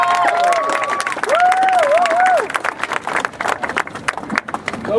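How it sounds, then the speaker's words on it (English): A crowd at a rally for undocumented immigrants claps and cheers for a reverend taking the stage; dense applause runs throughout while a voice whoops and calls out over it in the first half. "Round of applause, please."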